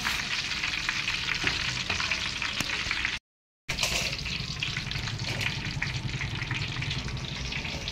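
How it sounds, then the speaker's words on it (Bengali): Vegetables fry for biryani in a pot, giving a loud, continuous sizzle with stirring scrapes. The sizzle breaks off briefly partway through, then resumes. "এইভাবে সব ভেজে, এইভাবে সব ভেজে হাঁড়িতে দিয়ে নেবো"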